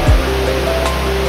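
Continuous rushing roar of the waterfall at Dampalit Falls beneath Mt. Makiling, steady and fairly close, with a short low bump at the start.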